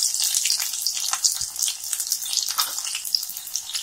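Small sambar onions (shallots) drop into hot oil with mustard seed tempering for a capsicum and potato stir-fry, giving a steady bright sizzle with a soft low thump partway through and no voices.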